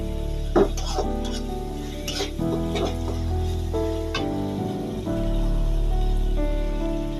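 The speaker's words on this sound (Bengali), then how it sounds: "পেঁয়াজটা সুন্দর করে একটু ভেজে নিতে হবে" Onions fry in a pan for a chicken gizzard and liver curry, with a steady crackle and spitting sound. Scrapes and clinks of a stirring spoon rise now and then over the sizzle. No one speaks.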